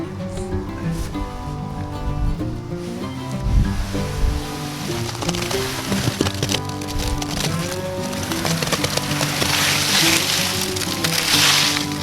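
Concrete pours and sloshes into a fence post hole in a continuous wet rush, with gritty rattles growing louder toward the end; no voices over it.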